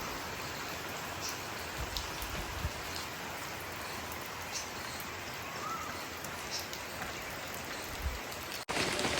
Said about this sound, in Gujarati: એકદમ ધોઘાટ વરસાદ ચાલુ થઈ ગયો છે